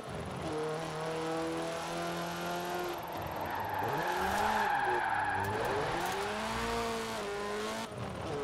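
A racing car engine drones and revs up and down in Forza Horizon 4, struggling up a climb, with tires squealing midway as the pitch bends and wavers.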